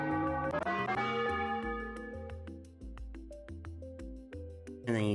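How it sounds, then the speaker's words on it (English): Bell chimes ring out in a game development setting, several struck tones sustaining with harmonic overtones over a dense musical backdrop, loud and close. "I need a bell sound effect."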